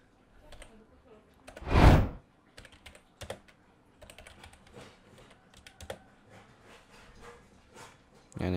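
Keys clack on a computer keyboard as a command is typed in Kali Linux, a series of close, irregular light taps with a louder thump near the start, no talking.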